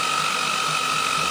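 A line boring bar fitted with a cutting tool bit cuts into metal, giving a dense, steady, clattering mechanical whir with a sustained high tonal whine. The sound stays constant and close, with no speech.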